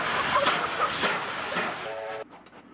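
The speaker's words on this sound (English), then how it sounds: "January 1966 sees the departure from Orange of 3810 with number 71 passenger train to Dubbo" Steam locomotive 3810 pulls number 71 passenger train away from Orange station bound for Dubbo in 1966, giving a broad hissing, rumbling chuff with rhythmic bursts, then a brief whistle-like tone near the end before the sound drops away.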